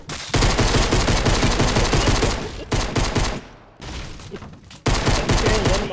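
Loud rapid automatic gunfire in Fortnite Battle Royale, continuous rattling bursts broken by a few short pauses, close and dominant.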